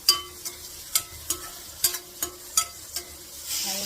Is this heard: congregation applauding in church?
no